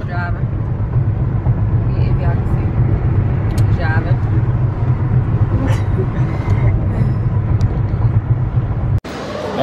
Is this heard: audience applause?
no